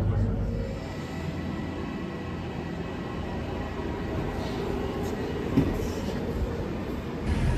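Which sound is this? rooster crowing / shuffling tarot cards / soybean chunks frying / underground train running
underground train running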